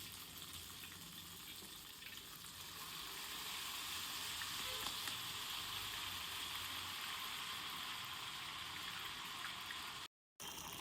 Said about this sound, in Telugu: సో మనకి ఇలా పిండి వేసినప్పుడు బబుల్స్ వస్తే ఆయిల్ వేడైనట్టు అనమాట